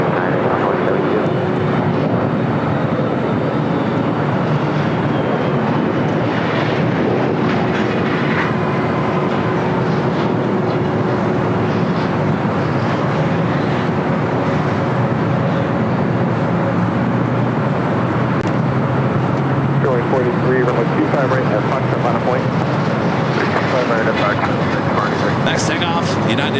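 An airliner takes off from runway 25 right at LAX, a loud continuous engine roar filling the whole stretch while air traffic control radio talk runs over it.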